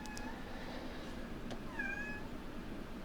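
A cat meows faintly two or three times, thin and distant, over a steady low room hum.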